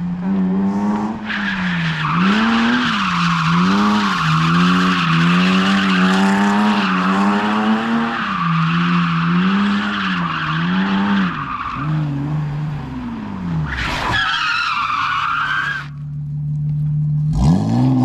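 A BMW E46 323 drifting with loud, sustained tire squeal that wavers in pitch as the tires skid and spin under a revving engine, then breaks off and returns briefly near the end.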